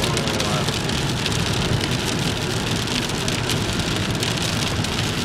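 Steady, dense rain pours down during a thunderstorm in El Monte, California, a continuous close hiss of drops on surfaces with no distinct thunderclap.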